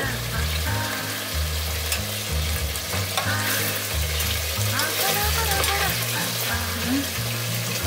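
Meatballs for albóndigas soup searing in a hot pan, loud steady sizzling and crackling close up, with occasional stirring and a voice talking over it.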